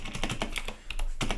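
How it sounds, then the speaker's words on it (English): Quick keystrokes on a computer keyboard: a rapid, close run of clicking taps with a short pause near the end. "I'm going to type in MSFT"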